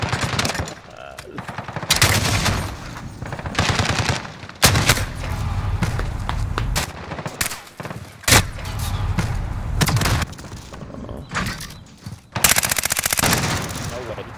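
Loud bursts of automatic gunfire from a video game shootout crack out repeatedly at close range, with sharp separate volleys and brief pauses between them, while players talk excitedly in between.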